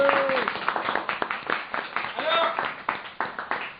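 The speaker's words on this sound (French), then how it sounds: "Applaudissements pour la revue de presse, s'il vous plaît." Comedy show audience applauding, a steady patter of many hands clapping with a voice starting to speak over it.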